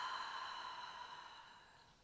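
A slow, steady exhale during a hypopressive exercise for pelvic organ prolapse relief: one soft, breathy rush of air that fades gradually over about two seconds, faint and close, with no talking.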